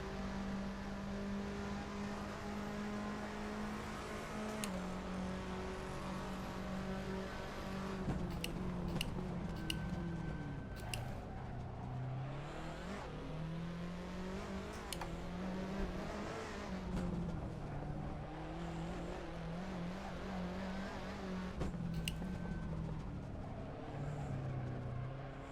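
A race car laps the Lausitzring circuit in a racing video game, its engine a continuous loud whine that rises and falls through gear changes, revving and easing off for corners over the whole stretch, with no talking.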